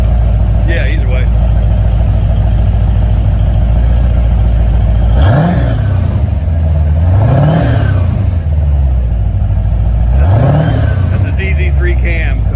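Paxton-supercharged 5.7 TPI ZZ3 engine in a C4 Corvette on its first start, idling steadily with a loud low drone, then revved in three quick blips that rise and fall, with people talking over it.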